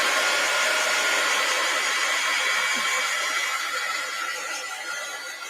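A heat gun blows hot air to dry paint, making a loud, steady, close whooshing roar that runs the whole time and eases off slightly near the end, with no talking.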